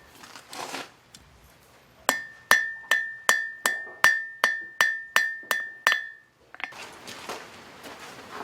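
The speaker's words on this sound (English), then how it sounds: "We'll do that over the edge of the anvil." A steel bottle opener's edge is hammered over the anvil at a blacksmith forge: about ten sharp, ringing metallic strikes in steady rhythm, each decaying briefly with a sustained anvil ring, preceded and followed by softer shuffling and scraping.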